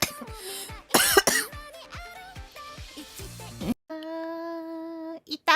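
A girl gives a few sharp coughs close to the microphone among stretches of voiced sound, followed by a steady tonal hum and a final short burst.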